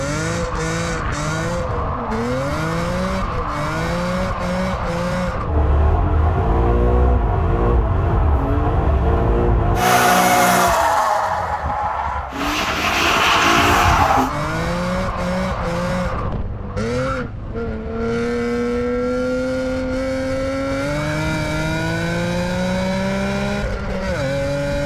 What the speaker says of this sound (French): Qu'est-ce qu'on ferait une BM sans faire un petit drift quand même?